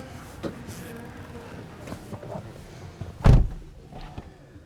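A 2023 Mercedes-Benz C 300 4MATIC car door opens, a soft shuffle and click followed by a single louder thud near the three-second mark as someone climbs in, with a faint knock after.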